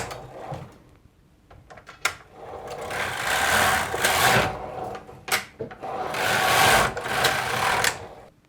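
Silver Reed SK knitting machine knitting pearl ribbing: carriage sweeps in long rasping, rattling passes, each separated by sharp clacks and short pauses, close and fairly loud.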